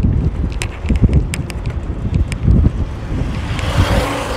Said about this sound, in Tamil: திருப்பி அந்த காற்று வருது.